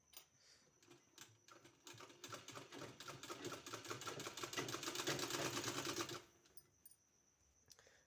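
Sewing machine stitching fabric for a kurti sleeve, a steady rapid mechanical chatter that builds for about six seconds and then stops, followed by a few faint clicks, close and quiet with no talking.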